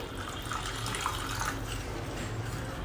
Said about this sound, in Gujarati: હવે થોડું પાણી આપણે ઉમેરી લઈશું